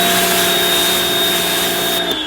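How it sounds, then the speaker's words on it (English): A cheap 1700 psi pressure washer runs steadily at close range with a loud, constant motor drone and a high whine, briefly dipping near the end; no speech. "Now 1700 psi isn't that strong in terms of pressure for a pressure"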